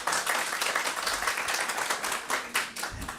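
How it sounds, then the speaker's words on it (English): An audience at a university seminar on data and digital methods claps steadily throughout, a dense, even patter of many hands with no voices above it. "So let's give some applause to him."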